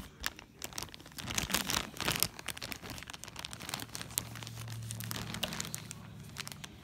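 A plastic Ziploc bag is handled up close, with crinkling and rustling in repeated bursts. It grows busier midway, and a low hum runs faintly underneath.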